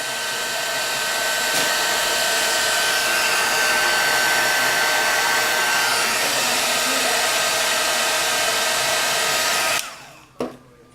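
A hair dryer blows a loud, steady whoosh close by for about ten seconds while heating a plastic magnifying glass, then cuts off abruptly, leaving faint handling noise.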